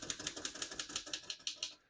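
A 1927 Royal P Model portable typewriter being typed on, quick even strokes of clacking keys about every tenth of a second, close and crisp, with no talking.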